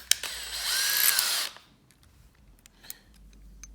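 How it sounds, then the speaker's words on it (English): A power driver runs a self-drilling, self-tapping hex-headed flanged screw, a close whirring burst of about one and a half seconds that stops abruptly, followed by faint clicks and handling noises. "So I'm going to swap out my drivers, secure it in place."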